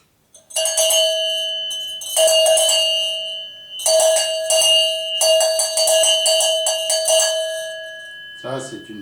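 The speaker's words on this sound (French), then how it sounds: "Ça, c'est une cloche de vache" A cowbell rings in several separate bursts of bright, sustained metallic tone with a steady pitch, each lasting about a second or more, close and fairly loud, followed by a brief voice at the end.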